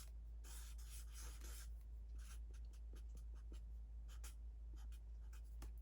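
A pen or pencil scratches curvy hill-shaped lines on paper, close up, in a series of short rubbing strokes and pauses over a steady low background hum.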